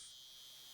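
Cicadas buzz in the Colonel's Bequest video game, a brief, faint, continuous high-pitched drone with no voices.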